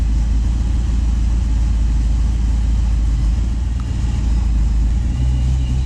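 An LS-swapped Chevy engine idles with the AC compressor clutch engaged, giving a steady, loud low rumble that holds even throughout with no voices.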